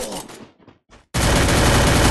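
Gunfire in the Garena Free Fire battle royale game: after a few brief shots and a pause, a loud, sustained burst of continuous automatic fire fills the rest of the moment, close and dense.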